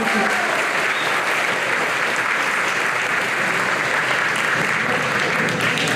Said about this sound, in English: Another big round of applause for Candace Coleman, everybody.